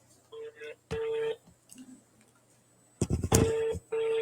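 A phone call being dialed: a series of short dial tones and beeps, close and clear, some of them run together, with a voice speaking briefly between them.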